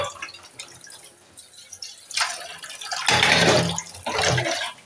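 Running tap water splashes over dishes being washed, starting with scattered drips and clinks, then swelling into louder, gushing bursts of flow near the end, close and without talk.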